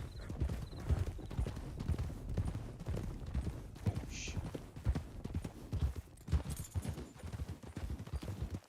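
Horse hooves in the Red Dead RP (WildRP) game, a rapid, close clip-clop of galloping that keeps pounding throughout, with a brief skidding stretch and a faint whinny partway through.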